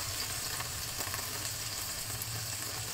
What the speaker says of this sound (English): when you are frying pork belly, be careful because of the oil, it will actually splatter